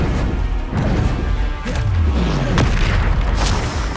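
Spell blasts in Hogwarts Legacy, with the Confringo fire curse erupting amid combat: a continuous roar of booming impacts and crashes, loud and close, with a few sharper cracks cutting through.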